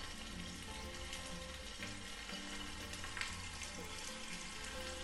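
Small shallots with a pinch of salt sauté in a hot pan for onion chutney, a steady, dense sizzle and crackle that runs without pause, close and even throughout with occasional stirring.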